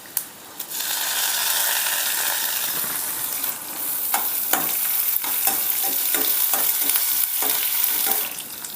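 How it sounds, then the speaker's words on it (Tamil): Red chillies, crushed garlic and curry leaves fry in a pan with a steady crackling sizzle, while a spoon stirs and scrapes in a run of sharp, regular clicks near the end. "கருவேப்பிலை கொஞ்சம் போட்டுக்கலாம்."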